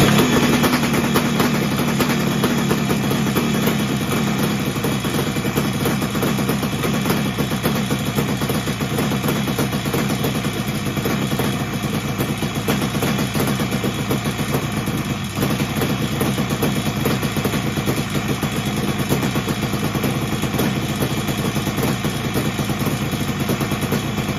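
A 1974 Yamaha RD350 motorcycle engine runs steadily with the choke on, a loud, continuous buzzing two-stroke drone close by, unbroken for the whole stretch.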